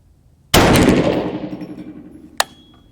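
A single loud, close shot from a .350 Legend rifle at an outdoor range, with a long reverberating decay and a sharp metallic clink about two seconds later.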